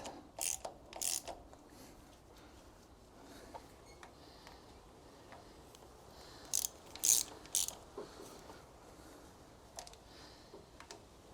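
Bolts on a BMW R1150GS valve cover tightened with a ratchet, quiet clicking pawl strokes in short bursts separated by pauses, close against faint background noise, no speech.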